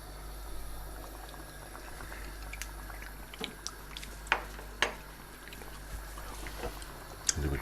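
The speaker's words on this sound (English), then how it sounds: "let's turn the heat back up, get this bubbling again" A pot of Greek beef stifado stew bubbles quietly with a low, steady simmer. Scattered soft pops and a few louder clinks of the pot stand out near the end.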